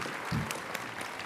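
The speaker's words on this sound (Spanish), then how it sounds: "Un fuerte aplauso para Manu." Brief burst of audience applause following a fashion talk session, moderate clapping from a crowd lasting about a second.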